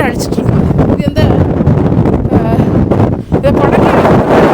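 Strong, gusting wind roars across an exposed hilltop, buffeting the microphone in a loud, continuous rush that swells and dips, with people talking underneath.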